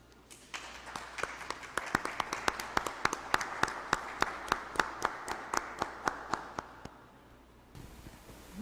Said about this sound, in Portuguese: Receba, então, os aplausos dos parlamentares municipais.